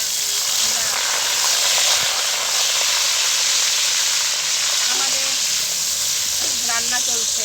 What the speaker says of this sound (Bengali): সবার প্রথমে ওই গরম তেলে কুচিয়ে রাখা পেঁয়াজ দিয়ে দিলাম